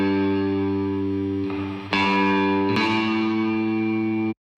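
A synth pluck runs through the Renaissance Axe compressor, heavily squashed so it sustains as a dense, buzzing chord, with bright noisy swells partway through before cutting off abruptly; no talking.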